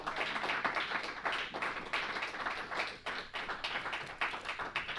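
Church congregation clapping and applauding for the Lord, a steady dense rush of many hands with rhythmic taps throughout, fairly distant and without speech.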